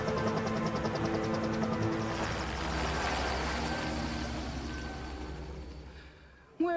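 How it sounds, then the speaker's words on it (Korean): A helicopter flying away in a science-fiction action film, its rotor chopping loud and close at first, then steadily fading into a distant drone before an abrupt cut at the end. "머즐들을 모두 해치운 락샤는 헬리콥터를 타고 혼자 떠납니다"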